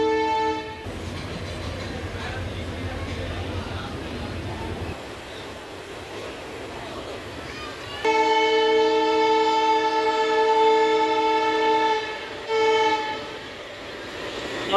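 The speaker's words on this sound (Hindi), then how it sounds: "अपने निर्धारित समय पर चल चुकी है हमारी ट्रेन श्री गंगानगर के 3 नंबर प्लेटफॉर्म से" A passenger train departs platform 3 at Shri Ganganagar station on an electrified line, its loud sustained horn sounding twice over steady rolling rail noise, close by and with no talk.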